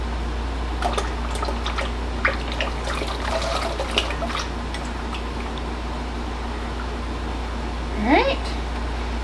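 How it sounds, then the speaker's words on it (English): Water pours and trickles during handmade soap making at a sink, a steady close splashing flow with a few clinks and a brief rising gurgle near the end. "Water."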